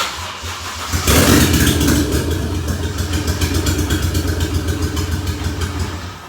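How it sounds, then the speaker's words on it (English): A Toyota 1JZ inline-six fires up on starter fluid and runs roughly, a loud close mechanical roar with a steady pulsing throb that stays on after the catch, no talking. "And that's just running off of the starter fluid."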